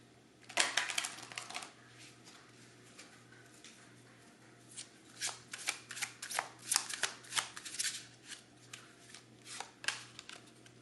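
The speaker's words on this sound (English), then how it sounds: "I'm going to take just one more oracle card" Oracle cards are shuffled close up in bursts of crisp riffling and flapping, quiet at first and then a longer run of rhythmic shuffles over a faint background hum.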